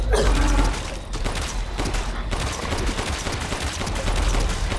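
Dense pistol gunfire in Resident Evil Village, loud, rapid overlapping shots and impacts running continuously for several seconds.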